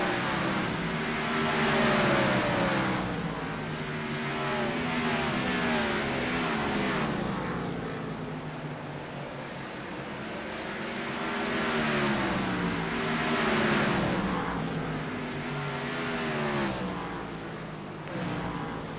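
Race cars in an Outcast Motorsports Gen 4 Series event roar around the track. Engine notes rise and fall in repeated swooping passes, loud and close, with no talk.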